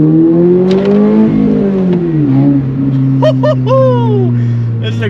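A Subaru BRZ or Toyota GR86 exhaust accelerating, loud and close, with a strong droning tone that climbs, dips, then holds steady through the pull, and brief voice-like chirps on top.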